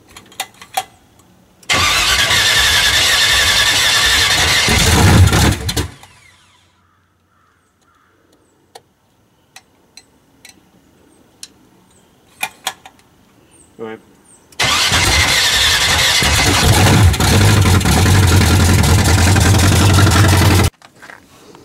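A Camaro fitted with a new carburetor cranks and fires twice, each start settling into a loud, steady idle of several seconds, separated by a quiet gap with clicks and brief talk between people in a garage.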